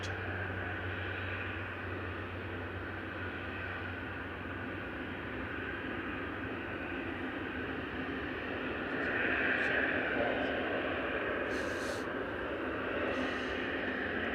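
A cargo aircraft engine roars steadily at Manchester Airport, a broad, continuous drone that holds nearly level for the whole stretch and swells slightly toward the end, with no talk over it.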